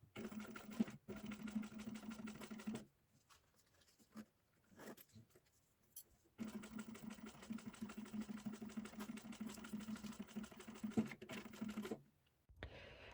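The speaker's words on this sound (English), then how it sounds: "we will clip it in place and take it to the machine. And we are gonna sew right on top." A sewing machine stitches along a zipper pouch in quiet, rapid runs of mechanical clatter, pausing for a few seconds between bursts before resuming at an even pace.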